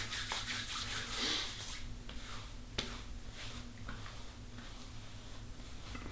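Beard oil being rubbed by hand into a beard, a soft continuous scrubbing and rustling close to the microphone with a few faint ticks, steady throughout with no talk.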